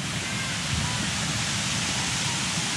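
Steady, dense roar of a waterfall in Liptovský Mikuláš, Slovakia, heard up close as continuous broadband rushing water with no breaks.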